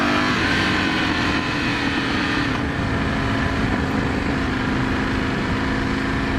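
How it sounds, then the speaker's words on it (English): A 2018 Ducati Scrambler 1100 engine heard while riding, a steady loud rumble that burbles as the throttle comes off, mixed with wind rush throughout. "it's got that lovely Ducati burbling and popping on decel"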